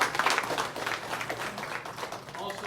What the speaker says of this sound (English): Let's give a round of applause for the committee.